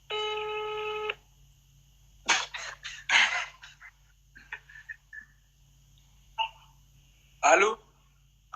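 A telephone call starts with a short burst of ringing or dial tones, followed by scattered electronic beeps and voices talking over the line.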